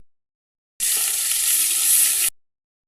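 Hot oil sizzles loudly in a cooking pan, a steady broadband hiss that bursts in suddenly, holds for about a second and a half, then cuts off, with no voices.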